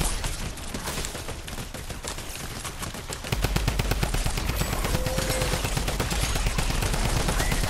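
Sustained automatic gunfire in Fortnite horde mode, a steady rapid rattle of shots that grows denser and heavier about halfway through, with no talk over it.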